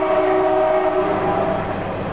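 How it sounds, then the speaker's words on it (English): BNSF freight train on the old Great Northern line through Snohomish, Washington, sounds its horn loudly and close by: a sustained multi-tone blast over the rumble of the passing train. "is a BNSF train running on the old Great Northern line across Snohomish."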